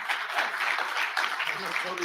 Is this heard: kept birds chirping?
no